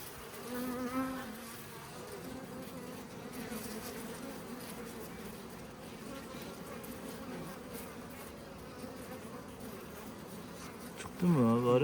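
A close, steady hum of many honey bees buzzing continuously at a hive, a droning sound that fills the whole clip, with a brief louder rustle at the end.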